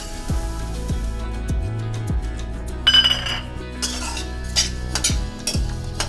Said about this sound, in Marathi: डाळ पण आपल्याला सेम पद्धतीने भाजून घ्यायची आहे